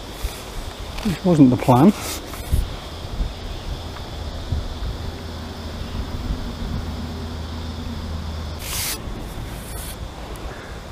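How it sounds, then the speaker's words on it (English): Strong wind buffets the microphone at a lakeside fishing spot, a steady low rumble throughout, with someone briefly speaking near the start. "This wind's really causing me a bit of an issue at the moment."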